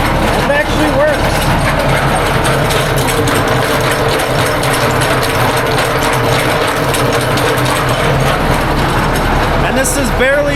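A tractor engine runs just above idle, a loud, steady mechanical drone with ratcheting, clattering rhythm, close up and continuous throughout.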